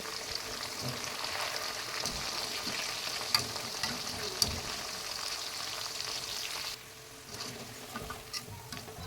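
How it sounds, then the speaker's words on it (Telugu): Chicken pakoda fries steadily in hot oil with thinly sliced green chillies and curry leaves, a dense, even crackle and sizzle with a few sharp pops. The frying softens noticeably near the end but keeps going. "సన్నగా కట్ చేసినటువంటి పచ్చిమిరపకాయలు, అలాగే 2 రెమ్మల కరివేపాకుని వేసుకొని ఫ్రై చేసుకోవాలి."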